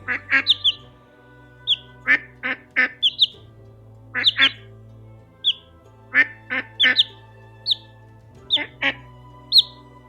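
An animated website duck gives a run of loud, clear quacks in short bursts of one to three, spaced across the stretch, with nothing else heard.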